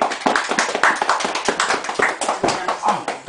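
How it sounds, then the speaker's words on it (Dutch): Children clap in lively, slightly uneven applause at a family visit from Sinterklaas and Zwarte Piet, close by and continuous with voices cheering over it. "een heel groot applaus voor de Stef."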